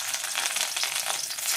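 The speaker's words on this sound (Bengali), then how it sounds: "তেলটা গরম হয়ে গেছে, এবার আমরা করলাটা লাল লাল করে ভেজে নেব" Bitter gourd pieces fry in hot oil until reddish, giving a close, continuous crackling sizzle with fine popping texture throughout a short stretch, no voices.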